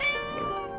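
A cartoon kitten gives a single drawn-out meow in the animated Mr Bean series, a clear tonal cry heard close and alone.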